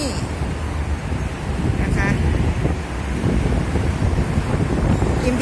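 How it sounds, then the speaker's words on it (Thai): Cool wind blowing across an elevated skywalk near BTS Samrong in Thailand, a loud, constant buffeting rush against the microphone with traffic rumble beneath. "ลมเย็นสบายดีจังเลยค่ะ"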